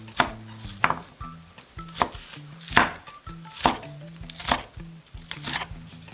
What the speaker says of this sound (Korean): 치커리, 쑥갓, 쪽파를 썰어주세요.